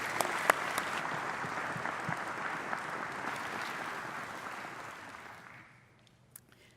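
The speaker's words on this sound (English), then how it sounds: "Would you welcome, with a warm applause, Dr. Gnanakan as he comes and shares God's Word." Warm applause from a church congregation during a Sunday morning service, a steady wash of clapping that holds for about five seconds and then fades out to near silence.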